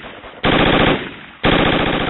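Two bursts of rapid automatic gunfire from the video game Project Reality, each a loud, close string of evenly spaced shots, separated by a brief fading gap.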